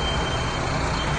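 A truck being moved out rumbles steadily and loudly up close, its engine noise continuous and broadband with no speech over it.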